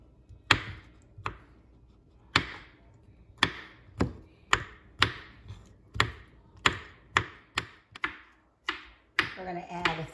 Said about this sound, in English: Now I'm going to cut some of these jalapenos.